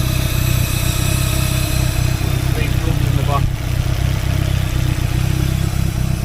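A Cosworth engine idling roughly with an uneven splutter and clattering, running close and loud, with someone talking briefly over it.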